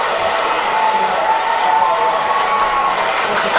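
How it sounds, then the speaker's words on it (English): An audience at a science talk on animal vision gives a round of applause. The clapping is a continuous, loud wash of sound with no pauses, heard over the room's ambience. "Can we have a big round of applause for the locust?"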